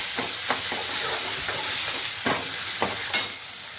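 Chopped onion and tomato sizzle steadily in hot oil in a pan, with a continuous frying hiss broken by a few soft stirring scrapes and one sharper clatter near the end.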